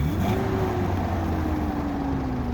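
Manual car engine revving steadily under load while driving, a continuous close mid-pitched drone with a rising tone across the whole stretch and no talk.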